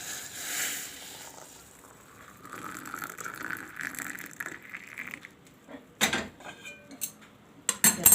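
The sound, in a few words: hot water poured onto tea premix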